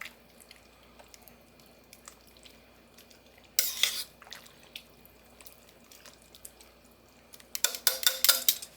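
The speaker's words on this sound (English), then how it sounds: "Give it a good stir." Freeze-dried honey garlic chicken noodles stirred in a pouch: quiet squishy, wet scraping with small drips, then two louder bursts of crinkly rustling and sloshing, close to the mic.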